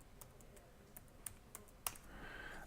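Someone types on a computer keyboard, soft clicking keystrokes tapping irregularly and fairly faint, close up, with no talking.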